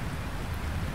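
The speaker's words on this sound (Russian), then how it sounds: "У нас дождик." Steady rain in the video game Lightyear Frontier hisses evenly in a brief moment, a soft continuous patter with no voices.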